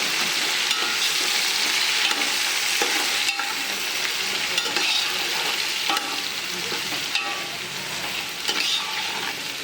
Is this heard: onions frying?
yes